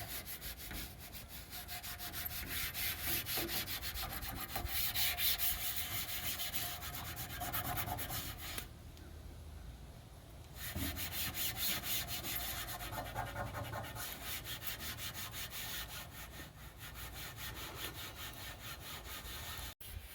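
An old t-shirt rag soaked in vegetable oil rubs back and forth over the metal of an Oklahoma Joe's Rambler grill, a close, steady scrubbing swish with a short pause midway.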